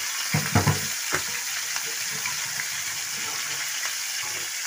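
Prawns sizzle and fry steadily in a pan for a jackfruit and prawn curry, a broad hiss with a few sharper pops and spatters early on, close and fairly loud, with no talking.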